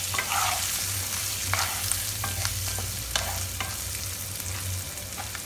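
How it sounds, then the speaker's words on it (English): Beans and potatoes fry in a pan with turmeric and Kashmiri red chili powder, giving a steady, close sizzle throughout with occasional scraping clicks of stirring. "And let them fry for a while."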